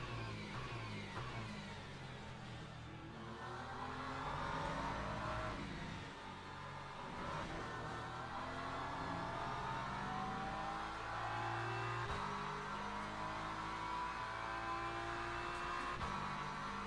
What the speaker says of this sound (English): Hypercars coming.